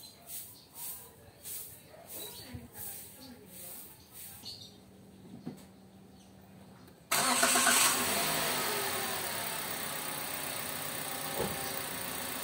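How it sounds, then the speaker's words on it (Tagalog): Toyota Rush engine, just fitted with a new NS40R battery, cranks with a pulsing rhythmic starter whir for several seconds, then catches and jumps to a steady loud idle close by. "Malakas na yung cranking niya."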